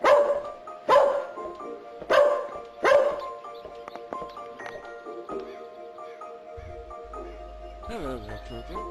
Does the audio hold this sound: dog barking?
yes